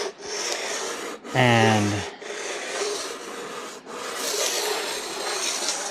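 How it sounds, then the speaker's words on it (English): A metal file rubbed along a snowboard's edge to clear scuff marks gives steady, close rasping strokes that run almost continuously, broken by a brief spoken word. "put a finger on this side of the file and then kind of rub it along"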